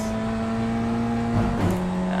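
A BMW M2 race car in the iRacing sim holds a steady, droning engine note at speed, with a brief shift in pitch partway through as it keeps accelerating.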